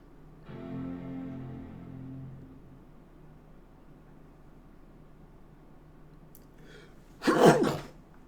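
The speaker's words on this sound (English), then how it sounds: "I'm gonna sneeze." One short, sharp sneeze bursts out near the end, after a stretch of quiet with a faint tonal hum earlier on.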